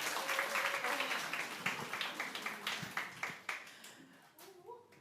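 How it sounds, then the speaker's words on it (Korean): Brief applause from a church congregation, scattered hand claps that thin out into separate sharp claps toward the end, moderately quiet in a roomy space, with voices murmuring underneath. "박수 한번 주시죠"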